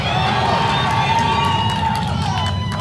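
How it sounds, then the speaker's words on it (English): Spectators at a 2023 ACC women's college soccer match between Notre Dame and Florida State keep up a steady roar of cheering, with a commentator talking over it. "Plenty of crowd cheering her on here on the road"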